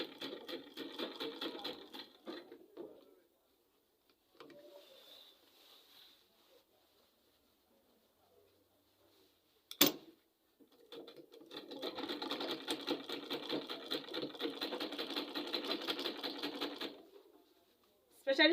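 A sewing machine runs in bursts while a dress facing is stitched around to the shoulder, rapid rhythmic needle chatter close by, stopping for quiet pauses and a sharp knock, then a long steady run, with talk in between.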